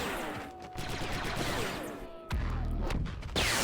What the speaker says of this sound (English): Grenades are being thrown.